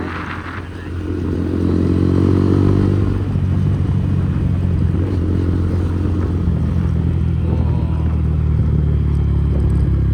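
A motorcycle is ridden and shifted down a gear: a loud, close engine drone that rises as revs climb, then holds steady under constant road and wind rumble, with no voices.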